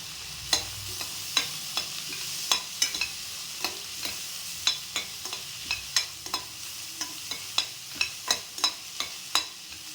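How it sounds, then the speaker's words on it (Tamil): Green chillies and curry leaves fry in a pan with a soft steady sizzle, punctuated by regular sharp scraping taps of a spoon stirring, fairly close and with no talking. "ரெண்டு பச்சை மிளகா சேர்த்துக்கலாம் கருவேப்பிலை ஒரு கத்து போட்டுக்கலாம்"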